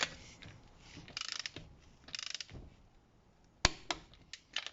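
Bolts are torqued on a 2012 Ford Focus SE during serpentine and A/C stretch belt replacement, with rapid ratchet clicking in short bursts and a few sharp metallic clacks, close and moderately loud.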